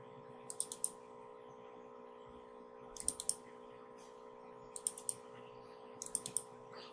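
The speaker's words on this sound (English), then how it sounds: "If we double click, it will collapse, and if we double click again, we can expand it" Computer mouse double-clicks while working in an Excel pivot table: four pairs of crisp, faint clicks spaced a second or two apart over a low steady hum.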